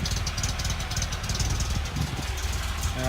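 A Datsun car engine idling unevenly up close on a cold start, a steady low rumble with a lumpy, pulsing rhythm.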